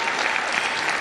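An audience at an eighth-grade school graduation applauds the teachers, a dense, even burst of clapping from a sizable crowd, loud and sustained through the moment.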